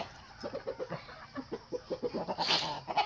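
Pet chickens cluck rapidly and repeatedly close by while being fed, with a busy run of short clucks and a brief higher squawk near the end.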